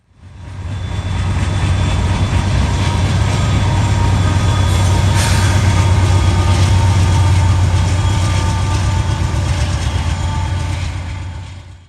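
A Norfolk Southern freight train of grain hoppers, auto racks, box cars and tank cars rolls past close by, a loud steady rumble with squealing wheels and clanking cars, an NS AC44C6M locomotive on the rear.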